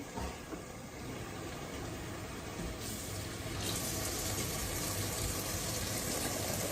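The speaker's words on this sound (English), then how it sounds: "I'm going to add my 6 cans of water" Water from cans pouring into a pot of chili mac on a home stove, a steady close splashing rush that grows louder and fuller partway through, with no talking.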